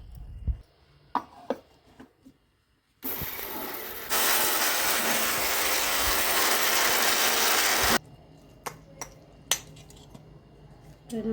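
A mixer grinder whirs loudly and steadily for about five seconds grinding cumin and fenugreek seeds, framed by scattered clicks and knocks of the jar before and after.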